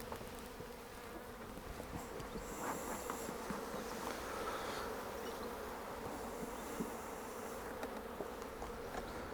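Honey bees buzz steadily around a hive, a dense continuous drone with individual bees passing closer now and then.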